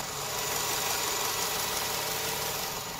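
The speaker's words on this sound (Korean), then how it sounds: "바로 가까이서 엔진 사운드 담아드리도록 하겠습니다" A steady, smooth idle from a 2020 Renault QM6 2.0 LPG engine hums close up under the open hood, with a constant even drone and no voices.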